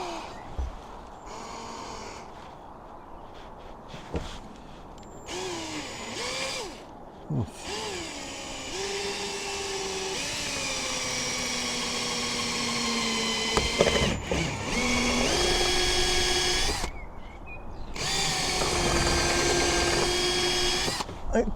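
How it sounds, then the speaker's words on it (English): A power drill whirs in sustained bursts that rise and fall in pitch, stopping and restarting several times while drilling a boat's radar arch for cable wiring, close by with no talking. "let's drill this one up close to this side"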